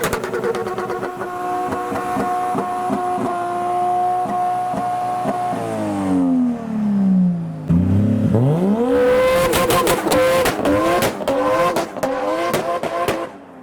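Japanese cars, including Nissan Skylines, Silvias and Supras, rev hard and squeal their tires as they leave a 2020 car meet, with loud passing engines, a sweeping drive-by and bursts of skidding close to the listener.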